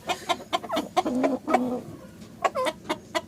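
White Cochin chickens, a rooster and two hens, cluck close by in a rapid, uneven series of short calls with a few drawn-out tones, steady and fairly quiet with no talking.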